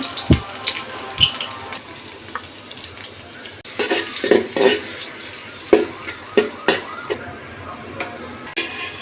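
Onions for shing fish bhuna fry in a pan with a crackling sizzle, close by, punctuated by irregular clanks and scrapes of stirring that grow busier in the second half.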